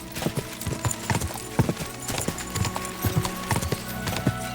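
Horse galloping in the video game Kingdom Come: Deliverance 2, a steady run of rhythmic clip-clop hoofbeats over a low rumbling game soundscape, loud and close throughout.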